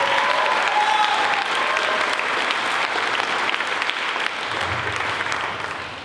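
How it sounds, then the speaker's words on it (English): Concert crowd at a school swing band performance applauds a trumpet soloist, a full, even wash of clapping that carries on for several seconds before gradually easing off. "Round of applause for him again"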